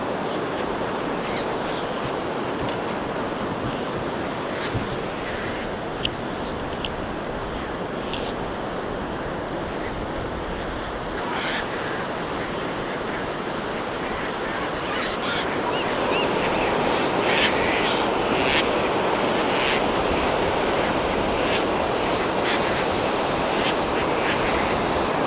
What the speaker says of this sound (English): so I'm at the ocean, Long Beach